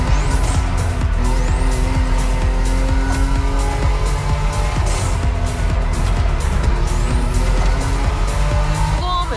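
A Toyota Supra in the racing game The Crew Motorfest on PS5 revs loudly and steadily with engine drone, repeated tire squeals and skidding over dense continuous game sound.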